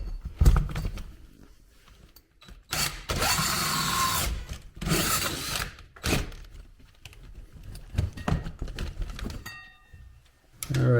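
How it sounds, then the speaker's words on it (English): A power drill bores a hole for a dryer vent from a basement, with several short bursts and one longer steady grinding run, separated by quiet pauses and light handling clicks. "now I'm going to drill the rest of it down here"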